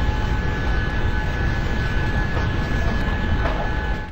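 Plane near an airport, a loud continuous roar of jet engine noise with steady tonal whine, close and unbroken, no talk.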